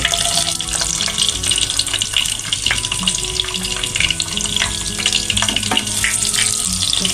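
Chopped onions hit hot oil already holding bay leaves and cinnamon in a pan, letting out a loud, steady, hissing sizzle that carries evenly from start to end with no voices.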